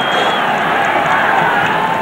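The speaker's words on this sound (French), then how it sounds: "Et on a entendu quelques applaudissements." A stadium crowd roars and applauds during a UEFA Cup football match between SC Bastia and Steaua București. The noise is a steady, dense wash with a faint whistle-like tone over it and holds at full level throughout.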